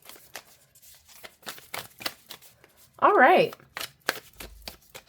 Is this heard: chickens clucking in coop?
no